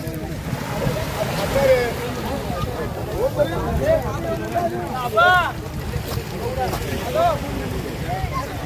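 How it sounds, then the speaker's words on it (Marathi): A boat travelling on open water near the Suvarnadurg fort off Dapoli, with a steady rush of wind and water, while voices talk and call out over it throughout. "अशा प्रकारे बोट जाते हे पाहताय तुम्ही"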